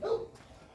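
A single short bark from a dog comes through at moderate distance, a brief yelp that fades quickly.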